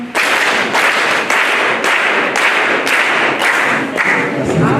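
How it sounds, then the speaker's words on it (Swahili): A congregation applauds the parish priests at a Carmelite seminary gathering in Kola, with loud, rhythmic clapping in steady group bursts throughout. "Simama juu. Makofi 6."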